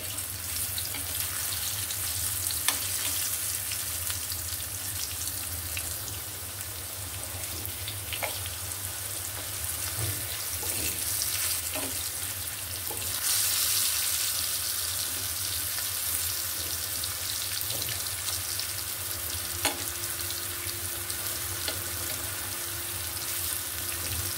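Food frying in hot oil in a pan, a low, steady sizzle heard fairly faint and distant, with only occasional light clicks and no voices.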